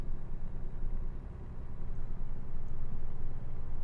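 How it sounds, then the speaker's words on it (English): Jake brake on a Peterbilt truck in American Truck Simulator, a steady low rumbling engine drone that grows slightly louder and rougher toward the end, heard alone with no talk. "So when going down hills, you're only going to hear the Jake brake."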